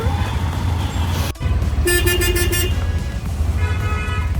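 Car horns honk in short repeated bursts over the rumble of engines in busy Bangladesh traffic, heard from a tuk-tuk, with a sharp thump shortly before.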